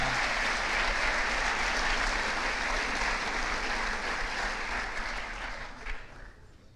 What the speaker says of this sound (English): One more round of applause to our 12 sport athletes.